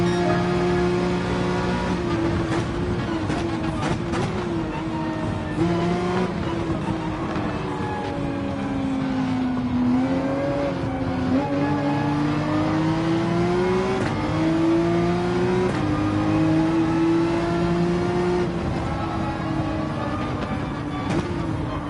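Ferrari race car engine in Gran Turismo 7 held on throttle, a steady loud revving whine whose pitch climbs and dips with gear changes across a lap, continuous with no talk.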